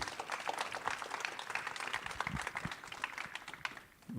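Presenters at a community school final project showcase receive scattered applause, with individual claps clearly separated, fading out near the end.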